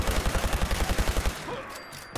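Rapid automatic gunfire from a gunfight in the video game Fallout 4, a fast rhythmic burst of about fifteen loud shots that stops abruptly, followed by a brief quieter tail.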